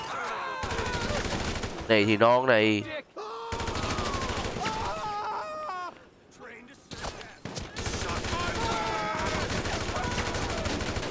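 Bursts of rapid gunfire in the video game GTA 5, with someone talking excitedly over the shots and a short lull midway before the firing resumes.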